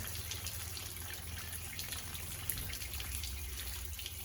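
Water pours steadily from both exhaust ports and the pump of a Sea-Doo Speedster jet boat, a continuous close splashing cascade over a low, even rumble.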